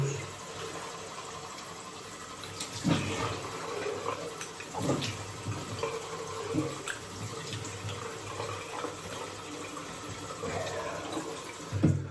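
Tap water runs and splashes as someone washes their face during a classic Spanish wet shave, with uneven bursts of splashing over a steady flow, fairly close.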